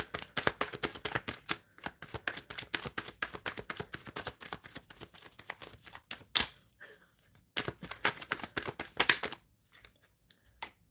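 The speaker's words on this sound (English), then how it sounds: "I'm going to pull 2 cards for" Tarot cards shuffled for a reading, a rapid crisp run of riffling card flicks in bursts with brief pauses between, close and clear with no talking.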